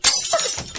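A drinking glass dropped and breaking makes a single loud, close crash of shattering glass, followed by a brief tinkle of scattering shards, with no speech.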